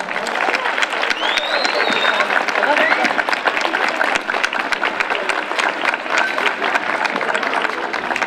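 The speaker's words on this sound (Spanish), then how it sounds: "pues un aplauso." An audience at an equality event claps in a sustained, loud burst of applause, with crisp individual claps throughout and a few voices mixed in.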